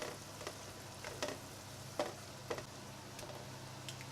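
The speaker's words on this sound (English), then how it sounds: "Now add all the chilies into the pan and fry for a few seconds." Chilies frying in a pan for a partridge dish, a soft, steady sizzle with a few sharp clicks and stirring taps at intervals, fairly quiet and close, with no talking.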